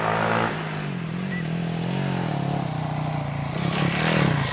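KTM 800cc motorcycle on a run at the Prescott hill climb, its engine droning steadily and loudly throughout with shifting pitch as it accelerates, no talk over it.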